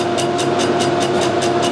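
A lathe tool takes a light finishing cut on a crankshaft, a smooth steady machine drone with a regular pulsing tick repeating about five times a second, loud and close.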